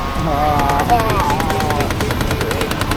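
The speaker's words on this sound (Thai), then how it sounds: "ยิงไม่ถูกคนอ่ะปืนหมดแล้ว" Toy guns rattle in a shooting game at a park on a trip through Xishuangbanna, Kunming and Luang Prabang, a steady rapid stream of clicking shots under busy crowd noise, music and nearby talk.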